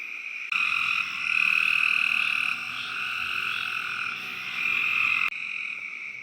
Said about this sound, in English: One more species that just hopped out in front of my headlights as I was leaving was this river frog.